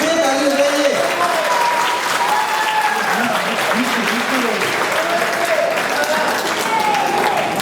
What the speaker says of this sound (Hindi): बच्चे ताली बजाइए